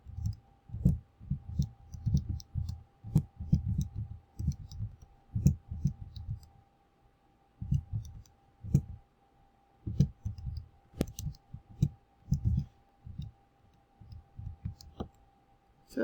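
Light plastic clicks from calculator keys pressed while entering statistics data into a list, coming in uneven bursts over a low, soft background with quiet gaps between runs of presses.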